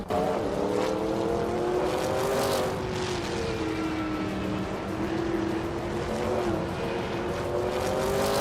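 A Lamborghini Murcielago race car roaring around Silverstone Classic in a racing game, a loud continuous engine drone with pitch gently rising and falling through gear changes, and no talking over it.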